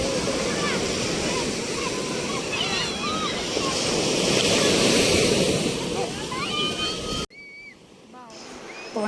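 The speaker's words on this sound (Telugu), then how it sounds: "పాండిచ్చేరి బీచ్కి అయితే వచ్చామండి" Surf breaking on Pondicherry beach, a steady loud wash of ocean waves with wind buffeting the microphone and children's voices over it, cutting sharply quieter near the end.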